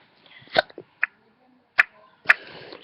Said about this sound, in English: These hiccups are hurting me.